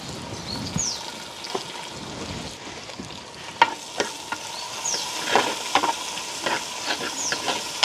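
Shallots and green chillies fry in a pan outdoors in a village kitchen for crab curry. A low crackling sizzle runs under repeated sharp spoon clinks and scrapes that grow busier toward the end, with faint birdsong behind.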